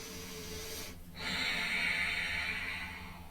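Slow, deep breathing during a Hatha yoga session: a soft, close breath with a smooth airy hiss that swells after a brief pause, over faint room tone.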